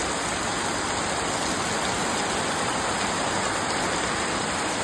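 Heavy rain pours steadily as floodwater comes into a house, a dense, unbroken wash of noise close by with no break in intensity throughout.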